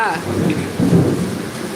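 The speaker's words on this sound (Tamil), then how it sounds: "இடி இடிக்குது" Heavy rain falls steadily in a rural village during a storm, with a low, rumbling swell of thunder rising midway through the steady rain hiss, fairly close and sustained.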